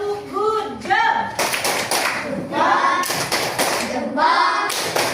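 Schoolchildren in an Indonesian classroom clap out a rhythmic group cheer, with sharp claps and thumps alongside their chanting voices, loud and close.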